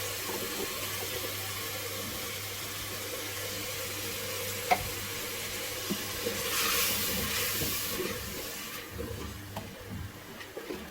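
Garlic, ginger and green chili paste frying in a handi, a steady low sizzle with occasional clinks and stirring scrapes, moderately close and unaccompanied.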